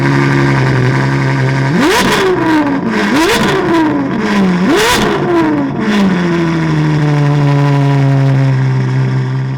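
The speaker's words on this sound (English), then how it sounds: "It has a beautiful sports exhaust system from us that puts such an extravagant note towards the rear." A Ferrari 812 GTS V12 with a sports exhaust blips three times in quick succession, each rev rising and falling sharply, then settles into a loud, rumbling idle.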